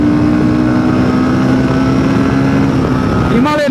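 A Royal Enfield Himalayan 450 motorcycle engine pulls steadily at speed with constant loud drone and wind rush, then revs sharply upward near the end.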